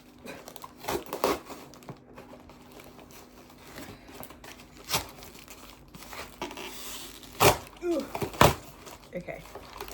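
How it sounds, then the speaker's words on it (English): A cardboard shipping box holding plants is torn open during unboxing, with scattered ripping, crinkling and thumping bursts at close range, mixed with a person talking. "box is fully being ripped apart"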